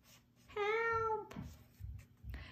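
A cat meows up a tree, giving one long, clear, tonal meow close by, followed by a few soft low thumps.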